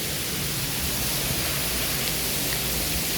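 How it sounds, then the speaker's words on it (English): A heavy rainstorm outside gives a steady, loud wash of falling rain, a dense hiss that never lets up over the few seconds, with no one speaking. "let's go check out the rain"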